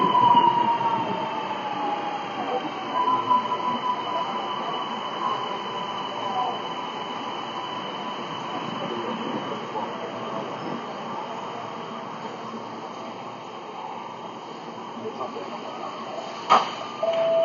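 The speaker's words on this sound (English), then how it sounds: "My train's about to arrive" A train pulls into Chatswood station, a sustained rumble with high wheel squeal rolling along the platform for the whole stretch. A sharp clank sounds near the end, and a voice is faintly heard.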